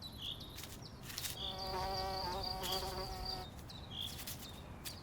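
Insects buzzing around wildflowers on an abandoned industrial site: close flies and bees drone in and out, rising and passing near with high whining buzzes over a soft outdoor background.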